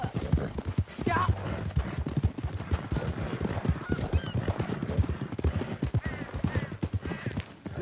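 Horse hooves clip-clop steadily through a Red Dead Redemption II game scene, mixed with background game sounds and a voice speaking over the hoofbeats.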